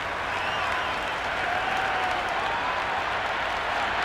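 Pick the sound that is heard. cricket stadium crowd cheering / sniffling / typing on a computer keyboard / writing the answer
cricket stadium crowd cheering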